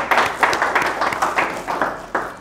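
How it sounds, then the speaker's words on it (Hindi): A few people clap in bursts of several quick, close claps each, with short pauses between the bursts. "जोरदार तालियां"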